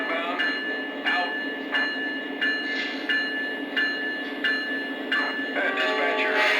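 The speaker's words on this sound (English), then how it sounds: "train is rolling" A Lionel Legacy KCS 4006 model train rolling out, with a steady mechanical rumble broken by regular rhythmic clicks and ringing accents, close and continuous throughout.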